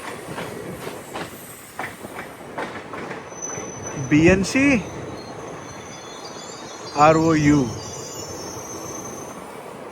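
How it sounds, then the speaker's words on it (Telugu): A special train on an Indian express line runs past with a continuous rail rumble and clatter, broken twice by loud, piercing wheel squeals, while a voice speaks briefly. "అటు సైడ్ నుంచి ఒక ట్రైన్ అయితే వచ్చేస్తుంది"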